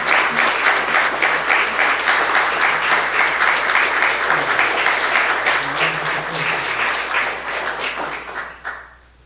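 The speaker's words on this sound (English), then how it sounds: "I want us to give him a rousing round of applause" A large audience at a Holocaust remembrance event gives a rousing round of applause, dense and loud from the start, sustained for several seconds, then thinning and fading out near the end.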